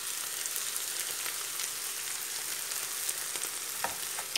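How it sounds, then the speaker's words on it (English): Vegetables fry gently in a pan on the stove, a soft, continuous crackle and sizzle at low volume with scattered light pops and occasional faint stirring sounds. "We don't want to be frying them to be browned off, we just want them to be softened up."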